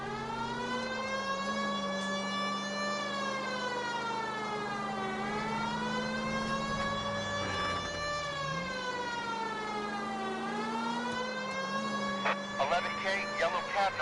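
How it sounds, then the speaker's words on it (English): Police car siren wailing continuously in L.A. Noire, rising and falling in long sweeps, loud and close for the whole stretch, with a brief burst of other noise near the end. "if you put the siren on, it'll let people know what's happening before you hit them, Phelps."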